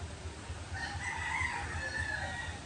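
A white leghorn rooster crows in one long drawn-out call, moderately distant, over a low rumbling farmyard background.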